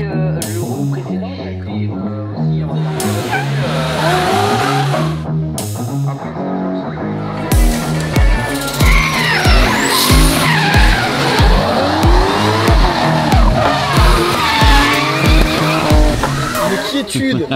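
A drift car at full throttle at a French drift championship, with a loud, revving engine and long screeching tire skids that rise and fall, while an excited voice shouts over it.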